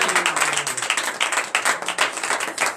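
A church congregation at a morning prayer service claps in loud, dense acclamation, a steady unbroken wash of many hands close by and filling the whole moment.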